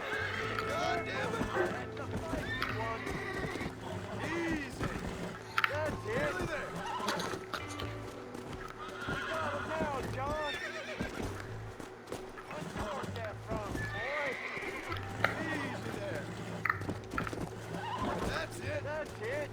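Horses in Red Dead Redemption whinny and neigh repeatedly while hooves clip-clop, all under steady game music and someone talking over the action.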